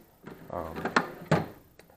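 A toolbox drawer slides open or shut with a couple of sharp knocks and a brief rattle of tools, close up, while someone talks over it.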